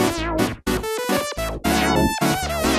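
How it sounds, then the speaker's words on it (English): Native Instruments Massive synth playing an 80s electro-funk patch: bright, punchy stabs and sliding lead notes in short rhythmic bursts, loud and close with brief gaps, no voices. "we're going to be creating a kind of 80s electro-funk stab sound"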